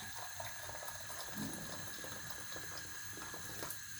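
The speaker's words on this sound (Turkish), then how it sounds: "İçine kaynar su koyuyoruz ya da soğuk suyu kaynatıyoruz." Water runs steadily into a pan on a gas stove in a kitchen, a faint continuous pouring and trickling with no speech.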